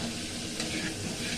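Chopped vegetables for a chicken and vegetable momo filling are stirred in a hot pan, giving a continuous sizzle with soft scraping and shuffling close by.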